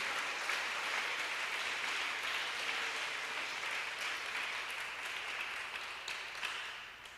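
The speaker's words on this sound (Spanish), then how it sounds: "Dele fuerte ese aplauso al dueño del evangelio" Church congregation applauding during a Christian sermon, a dense, steady wash of clapping that holds for several seconds and gradually tapers toward the end, with no speech over it.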